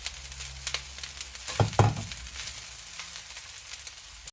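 Fried carrots tipped into a pot of rice give a brief scraping clatter and a sizzle, then a soft, continuous crackle of frying that carries on quietly to the end.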